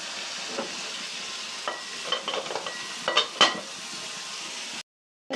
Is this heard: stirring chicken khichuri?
yes